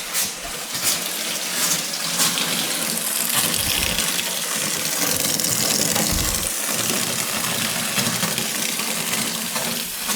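Filtered water runs steadily from a household tap just after a whole-house water filter change, a loud, continuous gushing stream that holds even for about ten seconds with no talking.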